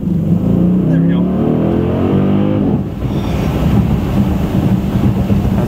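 A Dodge Challenger SRT8 muscle car accelerates hard on pavement, its deep engine rumble climbing in pitch, easing briefly, then roaring on, with someone talking over it.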